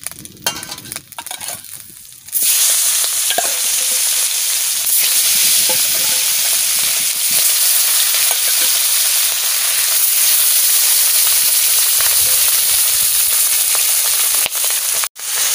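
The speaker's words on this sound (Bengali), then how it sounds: "মাছ ভাজা করতেছি" Fish frying in a kadai, a loud steady sizzle and hiss that kicks in after a quieter opening couple of seconds and runs on continuously, with faint scraping clicks scattered throughout.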